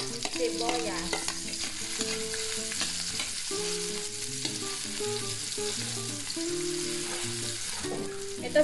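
Onion sautéing in a pan for a Filipino breakfast of sinigang and eggplant with bagoong, giving a steady sizzle with stirring scrapes throughout, close and fairly loud, with no talk.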